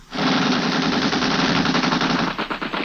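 Loud, sustained machine gun fire from a gang of hatchet men on a launch in an old-time radio detective drama, a dense rapid burst lasting nearly three seconds and heard alone.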